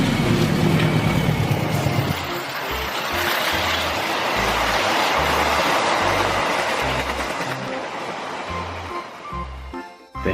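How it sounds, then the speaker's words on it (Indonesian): A KRL commuter train rolls past close by, a loud sustained rumble with rhythmic clickety-clack thumps of wheels over rail joints. The roar swells and holds, then fades as the cars pass. "KRL umum."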